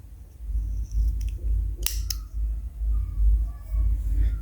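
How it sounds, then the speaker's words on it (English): Scissors snip through crochet yarn in one or two quick, crisp close cuts over a low background rumble, with no talk. "you want to pull a long thread and cut"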